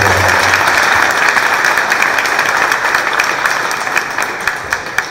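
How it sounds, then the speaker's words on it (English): Audience applause at a startup pitch competition, broad continuous clapping from a crowd that holds steady and then thins into a few scattered claps near the end. "I think we all, need to give a big round of applause."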